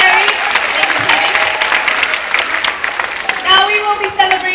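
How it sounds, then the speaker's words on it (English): Crowd applause at a Jurong Bird Park bird show in Singapore, loud sustained clapping filling the space, with a voice speaking over it. "Give both birds a big round of applause."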